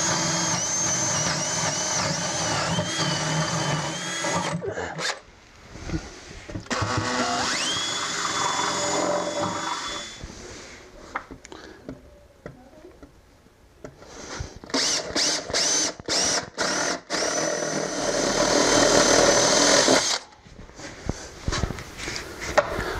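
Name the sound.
power drill drilling holes through wooden floorboard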